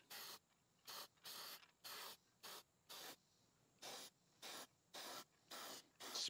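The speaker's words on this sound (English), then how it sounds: "We're gonna go ahead and spray some copper sealant on it." Copper gasket sealant sprays from an aerosol can onto a Cub Cadet riding lawn mower's head gasket in about ten short, crisp hissing bursts with brief pauses between them, close and alone.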